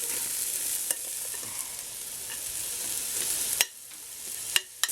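Onions tipped into a hot pot left from browning meatballs hiss in a bright, steady sizzle that briefly drops away near the end before a last few clatters of stirring.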